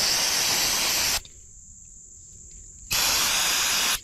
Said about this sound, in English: So let's get some brake cleaner. We clean everything off.